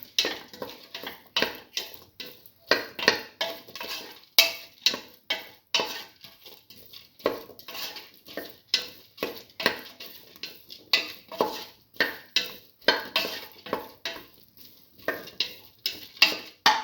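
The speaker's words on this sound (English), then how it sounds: "Thoroughly saute and mix." Red lentils and bottle gourd stirred in a pan, with a steady run of close scraping and clinking strokes of a spoon against the metal, repeating rhythmically over a faint background sizzle.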